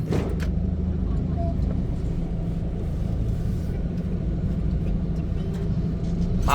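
Heavy car traffic stuck in a jam on the road during Songkran makes a steady, close, low engine rumble, with people talking over it.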